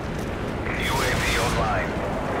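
A Call of Duty airstrike strafe run sweeps past with a rumbling roar of explosions and a swooping whistling tone overhead, loud and continuous throughout.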